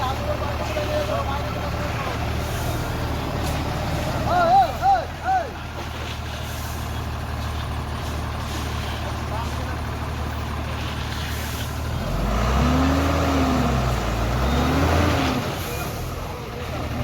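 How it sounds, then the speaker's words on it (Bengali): A 16-wheel truck crawling in low L gear with its differential wheels turning: a continuous low engine drone and mechanical rumble, with a brief hiss-like burst early on and a swelling, heavier engine surge near the end. "ডিফেন্সিয়াল চাকা ঘুরছে এবারে।"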